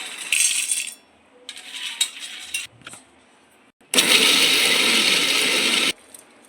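A mixer grinder grinds roasted peanuts in loud whirring bursts: one short run, a second run, then a longer steady burst, with brief pauses and small clatters in between.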